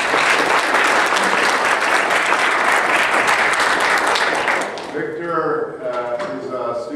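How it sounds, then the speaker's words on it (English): An audience at an evening event gives a round of applause for a student named Victor; loud, dense clapping for several seconds, then it fades as a voice starts speaking. "If we can get a round of applause for Victor."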